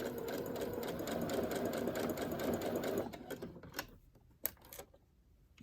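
Sewing machine stitching cover fabric for a journal, a fast rhythmic mechanical chatter running steadily for about three seconds before stopping, followed by a few faint clicks, close by.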